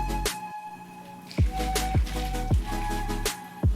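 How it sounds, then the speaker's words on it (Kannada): Water poured into a bowl of finely ground neer dosa rice batter at home, with sloshing and dripping bursts and a few sharp splashes, fairly close, no talking. "ಸ್ವಲ್ಪ ನೀರು ಹಾಕೋಬೇಕು."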